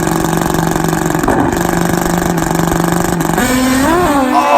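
Nitrous-fed Suzuki drag racing motorcycles at a 4.60-class drag race event, engines holding a loud steady buzzing drone before one rises and wavers through revs near the end.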